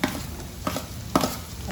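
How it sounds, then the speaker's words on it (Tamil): Broccoli sizzles in a pan of fried onions as it is stirred, a soft steady frying hiss broken by two or three scraping stirs, close and quiet with no talk. "ப்ரக்கோலி போட்டுடலாம்."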